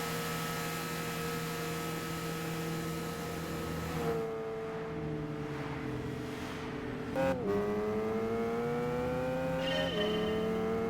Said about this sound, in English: This is literally one of the worst exhaust sounds this game has.